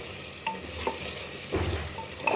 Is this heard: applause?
no